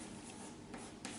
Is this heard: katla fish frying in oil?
no